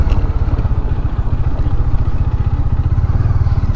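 A motorcycle engine idles close by in a steady, loud low throb with a regular pulsing rhythm, parked near the Bhimbetka rock caves, with no talk over it.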